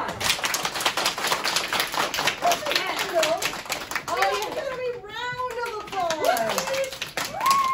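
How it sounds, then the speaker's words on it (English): Clapping for school classes at a morning meeting, loose crisp claps mixed with children's voices and chatter throughout, a few sharper hand taps standing out. "Let's give them a nice round of applause."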